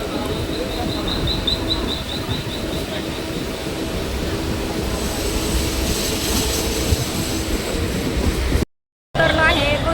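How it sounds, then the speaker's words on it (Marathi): Inside a moving local train, a steady rumble and rattle of the carriage runs throughout, with faint chirps early on, louder clatter later, and a brief dropout near the end; voices murmur beneath. "आता आहोत ट्रेनमध्ये, चाललोय आता."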